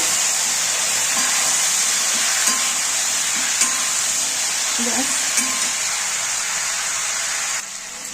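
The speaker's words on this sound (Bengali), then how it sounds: "দেখো এবার আমি হলুদ গুঁড়ো দেব, লবণ দিয়ে ভালো করে একটু ভেজে নেব সবজিগুলো।" Vegetables fry in hot oil with turmeric and salt, giving a steady close sizzle and hiss with faint stirring clicks and brief scrapes of the pan.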